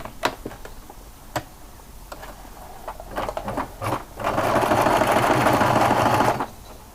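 A domestic sewing machine joins a seam 7 mm from the fabric edge: a few scattered ticks and short stitching bursts, then a steady close whirring run of about two seconds before it stops.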